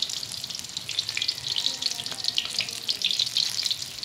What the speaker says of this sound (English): it's boiling goodly